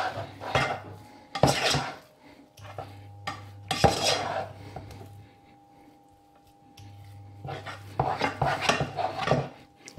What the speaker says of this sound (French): Et vous continuez de mélanger.